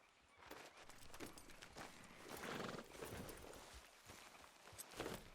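Horse hooves clip-clop at a walking pace in Red Dead Redemption 2, a soft, continuous run of rhythmic hoof falls heard alone at low volume.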